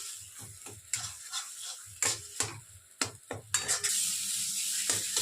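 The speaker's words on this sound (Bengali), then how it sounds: "তেলের মধ্যে দিয়ে আমি একটু এইভাবে ভেজে নিচ্ছি" Taro paste fries in oil in a pan, with irregular stirring scrapes and knocks over a soft sizzle, ending in a sustained brighter hiss.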